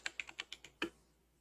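Fingers tap a computer keyboard in a quick run of about six crisp keystrokes, finishing with one louder, heavier key press, close up with no talking.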